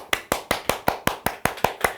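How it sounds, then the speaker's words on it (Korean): An audience at a laughter-therapy lecture claps together in brisk, even unison, about ten sharp claps in two seconds, close and steady with no talk over them. "박수!"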